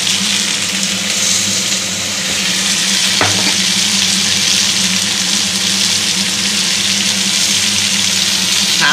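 Drumstick pieces (sajne data) frying in mango oil, a loud, dense, continuous sizzle close up, with a brief stir or clink partway through and no talking.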